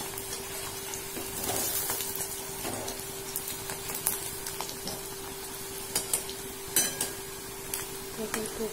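Fish roe fritters fry in a pan with a steady low sizzle, broken by occasional clinks and scrapes of a utensil against the pan. No one speaks.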